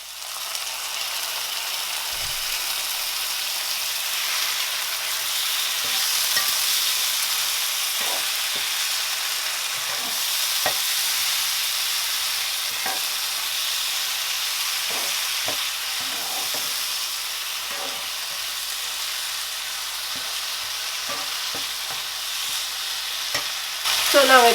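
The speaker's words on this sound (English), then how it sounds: "I'm going to add my celery. Give it a stir." Celery and chopped tomatoes sizzling in a cooking pot for a lamb stew, a steady hiss with scattered scraping stirs and clinks of the spoon throughout, moderately loud and alone.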